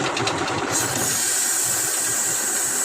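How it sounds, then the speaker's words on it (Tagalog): Steady loud air hissing from a leaking clutch booster on a vehicle, continuous and close, over a low idling engine rumble; a brief rhythmic knocking precedes the hiss settling in. "malakas yung leak ng hangin."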